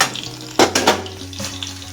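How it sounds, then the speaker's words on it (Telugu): Garlic slices hit hot oil in a tempering for gongura and sesame chutney. A sharp sizzle bursts up, followed by steady frying crackle and a few light stirring scrapes. No one speaks. "వెల్లుల్లిపాయ రేకులన్నీ కూడా దాంట్లో వేసుకుని బాగా వేపుకుందాం"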